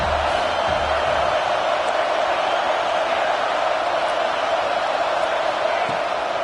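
A home crowd roars at a football game as the defense tries to get off the field on third down, a broad, steady wash of distant cheering that holds loud and unbroken.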